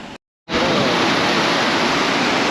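Water pours through a broken check dam on the Kosasthalai river at Velliyur, a loud, constant rushing roar that starts abruptly after a brief silence and continues unbroken.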